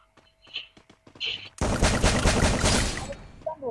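Video-game gunfire breaks out in a dense, loud burst of rapid shots lasting about two seconds, after a few quieter clicks and taps, with a voice talking over the start of the burst.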